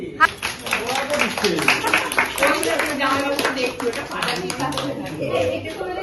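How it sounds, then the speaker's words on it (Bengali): A small group claps after singing happy birthday at a child's tenth birthday celebration, with a sharp first clap, then uneven clapping mixed with voices talking and calling out nearby. "হাততালি।"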